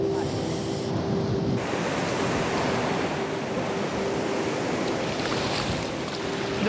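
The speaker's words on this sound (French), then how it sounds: "Ah, il y a des grosses vagues." Big ocean waves breaking on a beach, a continuous loud roar of surf and rushing water filling the whole stretch, with no clear gaps between breakers.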